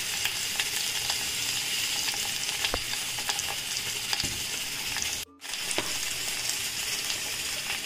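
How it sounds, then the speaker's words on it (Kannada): Mustard seeds, asafoetida and urad dal frying in hot oil for a simple Havyaka-style lunch, a steady close sizzle with scattered pops and crackles, briefly cut off by a short silence near the end. "ಒಂದು ಸ್ವಲ್ಪ ಸಾಸಿವೆನ ಹಾಕ್ತೀನಿ. ಹಾಗೆ ಇಂಗನ್ನು ಹಾಕ್ತೀನಿ ಸ್ವಲ್ಪ, ಮತ್ತು ಉದ್ದಿನ ಬೇಳೆನ ಹಾಕ್ತೀನಿ ಇಟ್ಕೊಂಡಿರೋದು"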